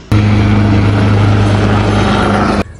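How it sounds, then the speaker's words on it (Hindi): Army air force helicopters flying near a hotel beside an army base camp: a loud, steady rotor thrum with low engine drone, close and continuous throughout, cutting off abruptly at the end. "बेसिकली हमारे होटल के बिल्कुल साथ आर्मी एयरफोर्स का बेस कैंप है, तो सारा दिन ये हेलीकॉप्टर जो है ना, ये आते जाते रहते हैं"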